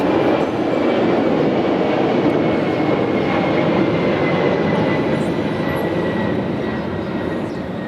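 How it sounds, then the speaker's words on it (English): An aircraft passes overhead, a loud, steady broadband roar that fills the whole stretch and eases only slightly toward the end, with no other sound standing out above it. "please wait for the aircraft"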